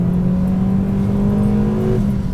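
A Renaultsport Twingo 133 hot hatch with a 5-speed gearbox, driven hard, its engine holding a loud, close, steady drone under load with a slight rise in pitch and no talk.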